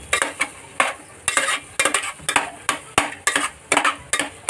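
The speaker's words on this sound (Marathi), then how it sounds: "परतून घ्या. आपलं हे मस्त भुर्जी एकदम लाल लाल झालेली." Egg bhurji is stir-fried in a pan with a spatula, a rhythmic series of sharp scraping and clanking strokes over a soft sizzle, close and without speech.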